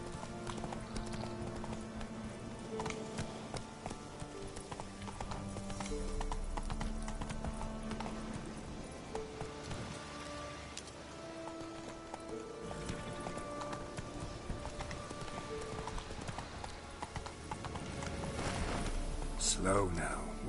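Roach, the horse in The Witcher 3, gallops with steady rhythmic hoofbeats and occasional snorts under game music, while someone talks over it.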